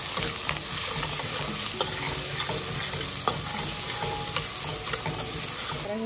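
Finely sliced white onion sautés in oil, a steady close sizzle with repeated stirring scrapes and occasional clinks of a utensil against the pan, no speech.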